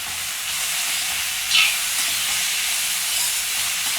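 Cooked vegetables fry in a pan with salt and red chilli powder, giving a steady, bright sizzling hiss with one brief sharper crackle partway through.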